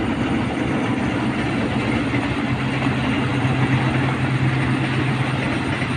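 A train speeds past open rural fields in the early morning, giving a steady, loud rushing roar of wheels on rails that holds for the whole stretch, with no one talking.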